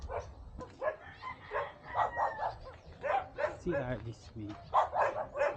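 Dogs barking and yipping in short bursts close by, with people talking over and between the barks throughout.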